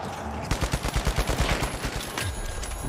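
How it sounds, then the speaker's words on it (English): A rocket grenade launcher fires in The Finals, a rapid volley of loud, punchy blasts in quick succession with echoing booms trailing off, and no talking. "This dude has a rocket grenade launcher"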